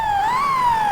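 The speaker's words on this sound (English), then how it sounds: "I love 49 because they have 2 sirens. That Q siren is amazing." A fire engine's Q siren in the EmergeNYC emergency-response game wails loud and close, a single rising and falling mechanical tone with strong harmonics sweeping up and back down within about a second.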